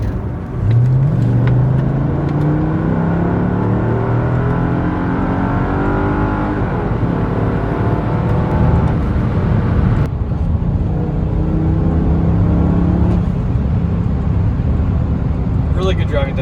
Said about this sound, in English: we'll do a little bit of a demonstration of acceleration here.